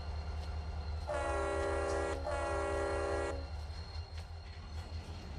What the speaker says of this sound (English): train's coming forward as far as it knows